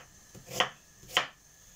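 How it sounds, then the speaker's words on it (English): A knife chops roughly through onions for a stew, two distinct sharp thuds on a board about half a second apart, close and isolated in a quiet kitchen. "we see how roughly I'm chopping up these onions"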